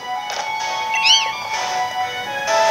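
A cat-like creature in Pokémon Sword gives a short, bright rising-and-falling meow call over soft electronic game music, alone and near, with no speech over it.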